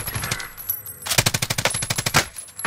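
Automatic gunfire in the Call of Duty Warzone video game: a few scattered shots, then a fast, loud, evenly spaced burst of rounds lasting about a second and a half, with another short burst near the end.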